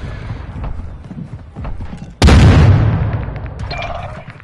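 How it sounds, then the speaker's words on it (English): A grenade going off in Call of Duty Modern Warfare 2, one loud, close, heavy blast that hits suddenly and rumbles away over about a second, following quieter scattered game sounds. "Grenade!"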